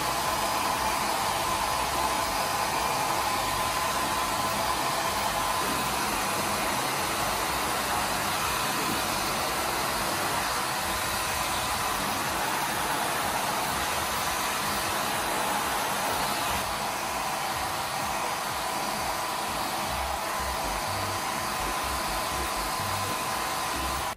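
A handheld hair dryer blows on curly hair with a steady, loud, close whoosh that runs unbroken from start to finish, with no voices.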